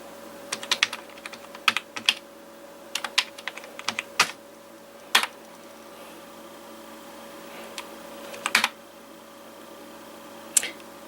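Someone types a sudo command on a computer keyboard while installing an old Mac OS on an iMac G4, with scattered clusters of close, crisp key clicks over a faint steady electrical hum.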